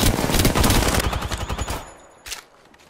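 Rapid automatic gunfire in the Apex Legends battle royale game, dense loud bursts of shots for nearly two seconds, then tapering off with a short final burst.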